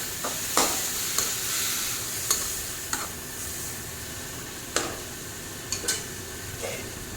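Vermicelli pulao cooking over a low flame after a splash of water, a soft steady sizzle broken by scattered sharp clicks and taps of a utensil against the pan.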